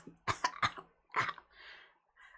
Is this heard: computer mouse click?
no